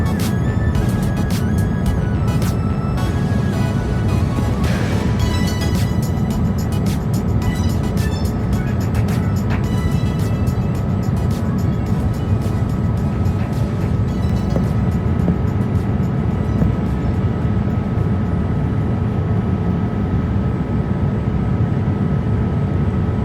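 Steady, loud broadband roar inside the cabin of a Hainan Airlines Boeing 787-8 on final approach into Dublin, a continuous engine and airflow drone with a faint tonal hum and no talk.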